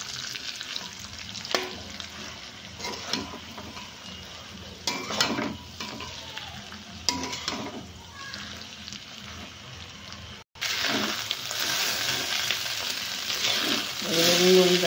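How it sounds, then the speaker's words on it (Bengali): Mixed chow mein with chili sauce and sugar being stir-fried in a pan: continuous sizzling under scraping spatula strokes and clinks, growing louder and more hissing in the last few seconds, close with no talking. "বন্ধুরা, সবগুলো আমি ভালো করে মিক্সড করে নেব।"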